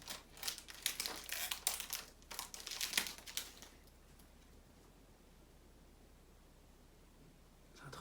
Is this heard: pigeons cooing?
no